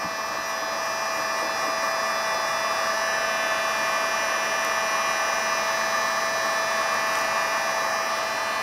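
A heat gun blowing hot air onto the rubber rear weatherstrip seal of a 1997-2006 Jeep Wrangler hardtop, a steady whining fan drone with a fixed tonal hum, unbroken and fairly quiet.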